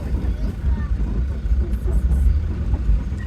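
Old taxi cars in the street traffic of Antananarivo, Madagascar, give a steady low engine rumble and road noise that hold close and fairly loud throughout.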